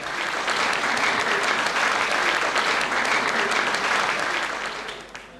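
An audience at the Wójt Roku 2010 awards ceremony applauds a finalist coming to the stage, a loud, sustained crowd clapping that fades slightly at the very end.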